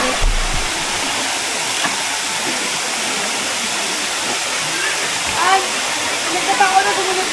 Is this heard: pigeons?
no